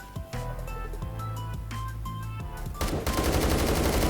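HK21 machine gun in Roblox Phantom Forces, firing close and loud in rapid bursts, ending in a dense, sustained stream of shots.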